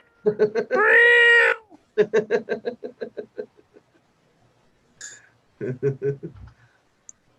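A cat meows in a series of short, close calls with a longer drawn-out cry early on, separated by brief pauses.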